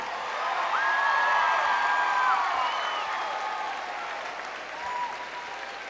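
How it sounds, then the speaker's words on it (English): A high school honors awards assembly audience breaks into sustained applause that fills the hall, steady and dense, tapering slightly toward the end, with faint voices beneath. "Let's just give Mr. Hill a round of applause for having a yellow shirt today"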